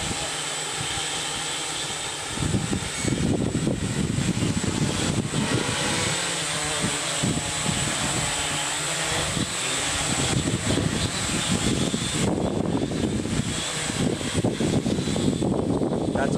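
A model aircraft engine runs at full throttle outdoors, a loud, steady buzzing drone that lifts after a brief quieter start and holds continuously with a fluttering edge.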